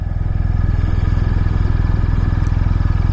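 BMW R1250 RT motorcycle engine pulling away, a loud, close, steady low throb with even pulsing rhythm and no voices.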